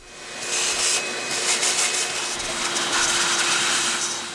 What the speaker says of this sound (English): So I take my wet dry vac, I'm going to vacuum this all out, and then I turn it over to blow and blow out any potential loose contaminants